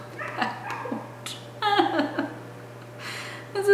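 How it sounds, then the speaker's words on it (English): A dog barks several times in short bursts, fairly close, with pauses between, over a steady low hum. "my dog will not quit"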